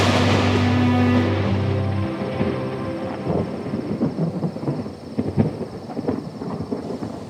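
Thunder rolls long and deep at the start of an approaching storm, then fades into steady rain with scattered crackling drops and distant rumbles, with no voices.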